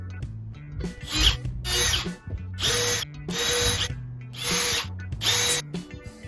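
A power drill bores deeper into screw holes for mounting a Yale hydraulic door closer, running in six short bursts of whining, grinding drilling separated by brief pauses, close and loud.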